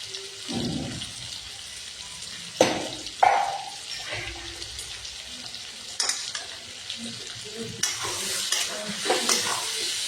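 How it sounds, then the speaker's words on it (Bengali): Potatoes and onions fry in a pan as ginger paste and garlic go in, giving a steady close sizzle broken by a few sharp scrapes and clatters of stirring. No one speaks. "এখন আদা বাটা আর রসুনটা দিয়ে দিব"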